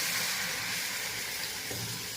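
Lentils poured into hot fried onions in a pan, giving a loud, continuous close-up hiss of sizzling that holds steady and dense without pause.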